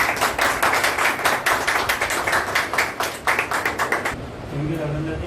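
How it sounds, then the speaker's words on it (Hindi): A crowd at a juice party claps to welcome a speaker, a dense, rhythmic run of applause for about four seconds that breaks off as a voice begins. "तो एक बार मैं चाहूँगा आप सभी तालियों के साथ स्वागत करें हमारे देवी सिंह सर का।"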